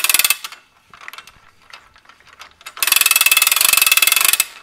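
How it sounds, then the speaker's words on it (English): A wrench ratchets on a bolt during hoist cart assembly, short bursts of fast clicking at the start and a long steady run of rapid ratcheting clicks near the end, close and clear. "I'm just going to take my wrench"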